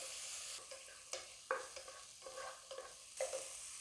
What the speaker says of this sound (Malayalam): മീഡിയം സൈസ് ചെറുള്ളി തക്കാളി നല്ല രീതിയിലൊന്ന് വഴറ്റി സോഫ്റ്റാക്കി എടുക്കുക